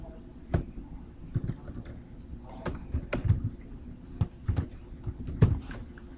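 Username and password being typed on a computer keyboard: irregular bursts of light, close key clicks with short pauses between entries, fairly quiet and alone.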